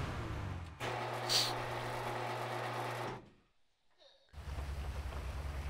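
Rain in a GTA roleplay game: a steady hiss of rainfall with a low engine-like hum under it, which cuts out to near silence for about a second, then comes back.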